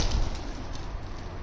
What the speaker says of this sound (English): There was a pigeon that just set it off big time.